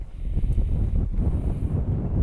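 Strong wind across an open lake buffets the microphone in a continuous low rumble, with gusty fluctuations throughout and no voices.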